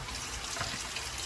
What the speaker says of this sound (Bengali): তো আমি এখন একটু পানি দিয়ে